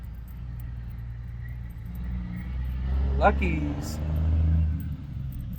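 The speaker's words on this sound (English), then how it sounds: "It's gonna be loud because of the semi." A semi truck drives past on a street, its deep engine rumble swelling and fading over a few seconds beneath someone talking close by.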